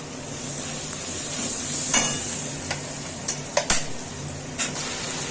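A ground paste of tomato, onion, garlic and ginger fries in a pot for Bengali mutton kosha, giving a steady close sizzle with a spoon stirring through it and several sharp metallic scrapes and knocks against the pan.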